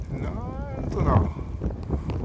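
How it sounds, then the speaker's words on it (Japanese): Strong wind buffets the microphone in a steady roar on a lake, heard from a traditional Japanese wooden boat, while a voice speaks over it. "すごい風が。"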